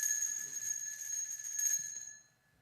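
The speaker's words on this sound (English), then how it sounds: "at least we'll try the bell once more" A single bell rings in a Sherlock Holmes radio drama, a bright sustained metallic tone with steady shimmer lasting about two seconds before fading out, heard alone with no talking.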